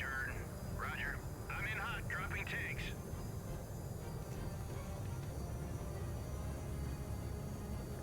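In the naval combat game Sea Power, a military aircraft drones steadily in a continuous broadband roar, with brief chirping radio-like tones early on and no clear speech over it.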